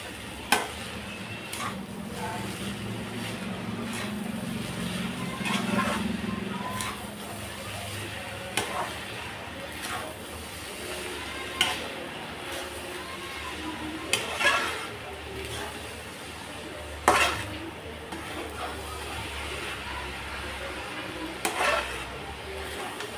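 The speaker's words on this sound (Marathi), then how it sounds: "आणि आता सगळं गूळ ह्याच्यामध्ये मिक्स करून घ्यायचं आहे" Grated jaggery is stirred into sweet lapsi in a pan, with a steady soft sizzle underneath and repeated scraping clinks of the spoon against the pan throughout, fairly close and moderate in level.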